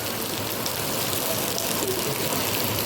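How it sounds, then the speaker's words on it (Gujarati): Heavy rain pours down in a dense, constant hiss of drops on surfaces, loud and close throughout without any talking. "વરસાદ ચાલુ થઈ ગયો છે અહીંયા બરાબરનો."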